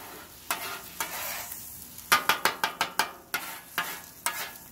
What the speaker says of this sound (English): Got my oil on. Hear that sizzle